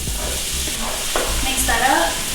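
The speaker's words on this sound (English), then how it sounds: "Go ahead and add the onions once the skillet gets nice and hot." Onions sizzle in olive oil in a hot skillet over medium-high heat, a steady crackle running throughout with a few scraping stirs mixed in.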